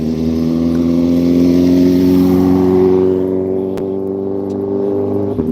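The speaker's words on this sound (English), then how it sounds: "That's a motorcycle coming." An engine drones steadily as a motorcycle comes along a residential street, loud at first and then gradually thinning out as it passes.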